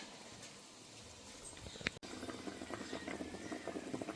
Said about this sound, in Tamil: பாருங்கள், நல்லா கொதிக்குது.